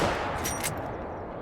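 A single rifle shot fired at a mule deer about 70 yards away in the Call of the Wild hunting game, a sharp crack followed by a fading rumble, heard alone.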